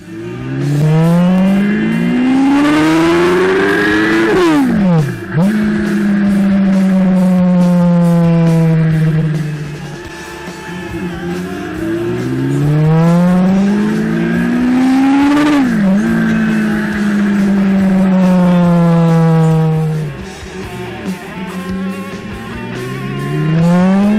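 An MV Agusta 750 F4 motorcycle with a modified exhaust, heard close and loud as its engine revs up and drops back in three long rising-and-falling sweeps, with no voices.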